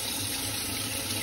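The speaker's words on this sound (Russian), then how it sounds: "Пускаем воду, и все ошметочки," Tap water runs steadily and loudly into a bowl as trout roe is rinsed in a kitchen, a continuous hissing splash with no pauses.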